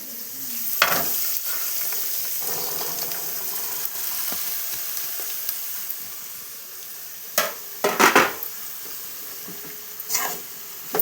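Food sizzling steadily in a hot pan while being stirred and mixed, with a few sharper scraping clatters of the spoon against the pan near the end, no talking.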